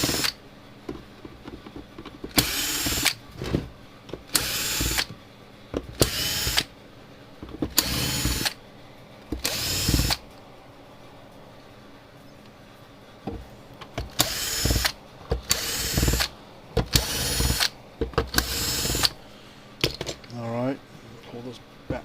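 Power drill backing screws out of the housing of a Tru-Test EW5i livestock weigh scale on a workbench, in repeated short whirring bursts of a second or so each with pauses between, with someone talking quietly in the gaps.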